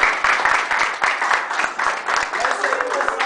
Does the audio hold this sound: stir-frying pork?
no